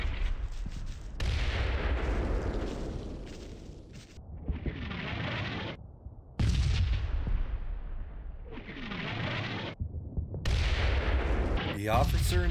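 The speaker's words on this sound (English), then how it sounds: "these lead elements are cut off from advancing over the bridge by German mortars" German mortar barrage in Combat Mission: Battle for Normandy, with repeated heavy booming blasts and rumbling impacts rolling in every couple of seconds, loud and near, under a faint voice.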